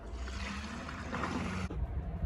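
Dirty water poured from a container onto the ground outdoors, a steady splashing gush that runs continuously for about two seconds, close and fairly loud.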